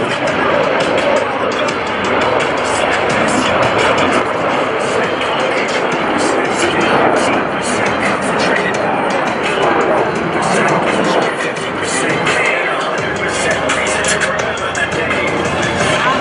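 US Navy Blue Angels jets roaring overhead at an Air National Guard open house airshow in Rhode Island, a loud sustained jet rumble throughout, with a public-address announcer and crowd chatter under it.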